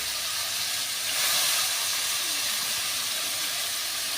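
Fresh drumstick pods frying in a hot tempering, a steady loud hiss and sizzle that swells briefly and then holds evenly throughout.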